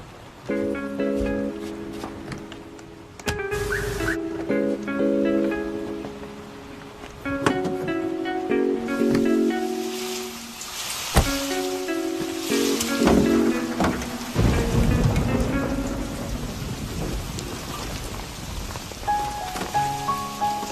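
Rain patters steadily throughout, with occasional heavier gusts, beneath tonal music that starts and stops.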